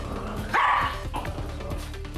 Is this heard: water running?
no